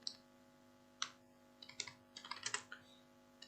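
Typing Python code on a computer keyboard, soft scattered key clicks in short irregular bursts with small pauses between them, close and quiet.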